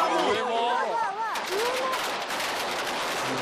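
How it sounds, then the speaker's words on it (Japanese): Over ten thousand erratic, so-called drunk fireworks explode at the Cordà festival in Bocairent: dense, loud crackling bursts and whistling rockets swirl without pause, with crowd voices underneath. "炸裂する花火は1万発以上の通称酔っ払い花火"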